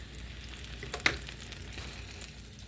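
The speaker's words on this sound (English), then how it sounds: "we're going to flip over our lamb chops. And we're going to let this side cook some more" Lamb chops frying in butter in a pan, a soft continuous sizzle with a few faint pops and one brief clatter near the middle.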